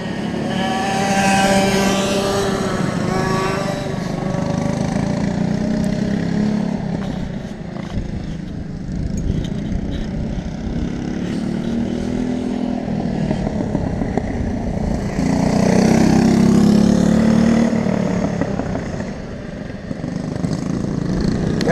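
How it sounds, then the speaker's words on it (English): BMB Racing #8 race car engine roaring at high revs on track, a loud sustained drone that rises and falls as it climbs toward the rev limiter, heard close throughout with no talk. "he's not bouncing off the rev limiter"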